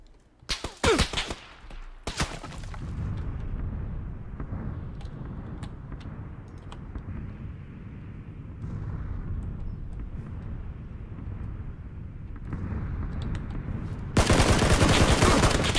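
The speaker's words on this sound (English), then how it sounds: "he's got a freaking sniper rifle" Gunfire in PUBG, including a sniper rifle: a burst of sharp shots near the start, then quieter rumbling ambience, followed by a loud, dense blast at the end.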